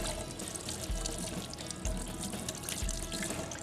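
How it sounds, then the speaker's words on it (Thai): Tap water runs steadily into a sink while river prawns are washed, a continuous close splashing rush with three soft low thumps as the prawns are handled. "เริ่มล้างกุ้งครับ"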